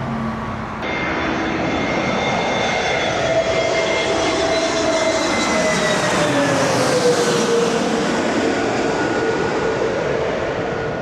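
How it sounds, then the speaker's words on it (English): A passenger plane arriving from Warsaw at Heathrow roars past steadily, its engine whine and low rumble swelling and shifting in pitch as it goes by, loud and continuous throughout. "next plane is coming from Warsaw in Poland."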